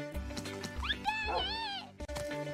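A dog in a Minecraft animation gives short yips and rising, wavering whimpers, fairly close, with a voice talking alongside.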